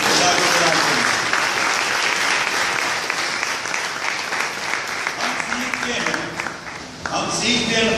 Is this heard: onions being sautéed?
no